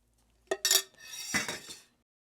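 Utensils clink and scrape against a pan while milk, butter and sugar are mixed for a 1920s chocolate pudding, a brief sequence of close metallic knocks followed by a longer stirring scrape.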